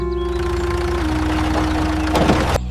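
A cartoon tractor engine runs steadily with a low droning hum and a faint rattling chug, loud and close, with a brief clattering burst near the end and no talk over it.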